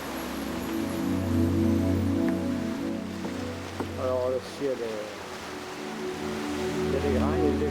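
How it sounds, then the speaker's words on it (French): Ocean waves wash around a sailing catamaran crossing the Atlantic from the Canaries to Martinique. Rushing water blends with a low steady drone and creaking, rattling sounds from the boat. "Il y a des jolis vagues, hein, ils arrivent en force là derrière et soulèvent le bateau."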